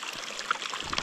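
Mountain spring water percolating up from underground along a high alpine trail near Tuolumne Meadows, a close, steady hissing trickle with small bubbling splashes throughout.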